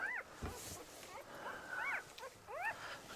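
A poodle puppy whines in a string of high, wavering whimpers with short gaps between them, close and fairly loud, while soft background noise continues.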